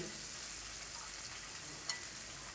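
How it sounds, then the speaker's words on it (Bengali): Spices, garlic and raw cumin fry in oil in a pan, giving a steady, close sizzle that holds evenly throughout, broken once by a brief stirring clink. "এখন এই মশলাটাকে একটু খুব সুন্দর করে কষিয়ে নিব"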